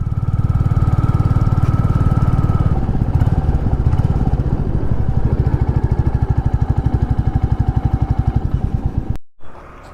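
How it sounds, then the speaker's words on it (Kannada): A Royal Enfield Classic 350 BS6 single-cylinder motorcycle on its stock exhaust idles close by in a steady, even thump that runs throughout, then cuts off abruptly near the end. "ಸ್ಟಾಕ್ ಎಕ್ಸಾಸ್ಟು ಈ ಸೌಂಡ್ ಬರ್ತಿದೆ, ಬಟ್ ಇಂಜಿನ್ ರಿಫೈನ್ ಮಾಡಿದ್ದಾರೆ"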